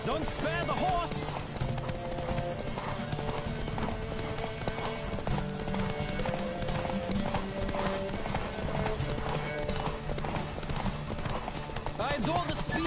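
Steady clip-clop of horse hooves at a brisk pace in The Witcher 3: The Wild Hunt, with occasional snorts and whinnies, under continuous talking and background game sounds.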